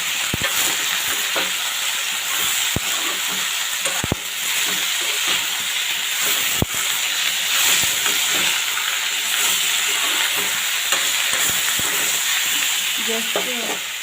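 Pork with nefafu leaves and potatoes stirred in a pan, a steady broad sizzle running throughout with sharp scrapes and clicks of the utensil against the pan scattered across it.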